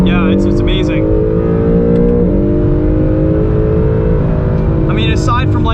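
A 2020 Acura NSX supercar's engine drones and revs steadily on a race track, a loud sustained tone with slight pitch shifts, while people talk over it throughout.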